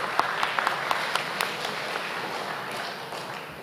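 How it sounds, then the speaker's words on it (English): A graduating class applauds at a high school graduation ceremony, a faint, distant, steady patter of many hands clapping that goes on throughout without pause. "Give yourselves a round of applause."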